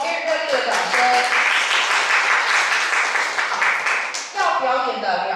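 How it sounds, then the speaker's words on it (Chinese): An audience gives a warm round of applause for a student singer at a recital, a dense burst of clapping that swells and then fades, with a voice heard briefly at the start and after it dies down. "我们给予热烈的掌声"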